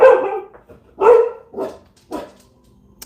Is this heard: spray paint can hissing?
no